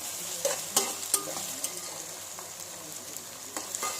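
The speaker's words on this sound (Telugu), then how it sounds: "చూడండి, ఆనియన్స్ వేసేసాను." Onions frying in a pan for chicken curry: a steady close sizzle with several spoon scrapes and stirs against the pan.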